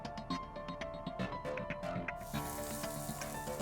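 Reindeer meat fries in a pan in a competition kitchen, a close, steady sizzle with crackling spits and clatter, swelling louder near the end.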